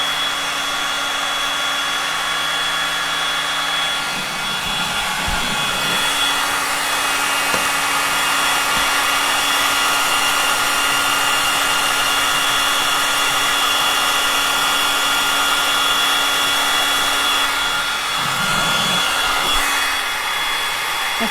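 A hair dryer blows steadily at close range while drying clay paint on a piece of furniture, a continuous loud whooshing hum with slight shifts in tone as it moves.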